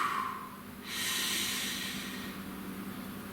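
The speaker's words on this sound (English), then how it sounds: "Please take a nice deep breath." One deep breath drawn in and slowly released, a soft close airy hiss that swells and then fades, heard alone in a quiet room.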